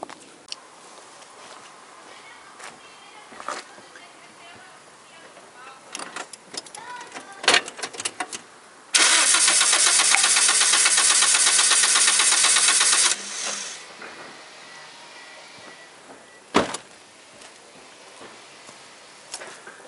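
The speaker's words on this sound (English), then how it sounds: "then I go to start this car's engine, and then we can get this number one compression rate." A Toyota Corolla engine from the 2000s is cranked over during a compression test: a steady, loud whirring burst of about four seconds, surrounded by tool clicks and workshop handling noises.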